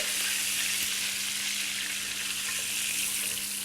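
Quail fry in a pan in a restaurant kitchen, giving a loud, steady, close sizzle with a constant background hum and no talking.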